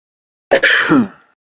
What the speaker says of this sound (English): Yep, the introductory cough.